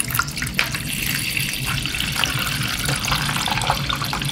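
Water runs steadily into a bowl in a home kitchen, poured to soak cut jackfruit seeds before salting for chips; the splashing pour is close, continuous and fairly loud, alone without talk.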